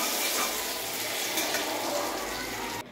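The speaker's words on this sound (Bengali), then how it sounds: "পনির ভেজে ফেললাম।" Paneer sizzles and spits in a hot pan with a dense, steady frying hiss and light crackle that carries on close up. It cuts off abruptly just before the end.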